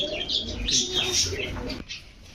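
Pigeons at a seller's stall cooing and chirping close by, a steady murmur of bird calls that carries a voice and then cuts down near the end.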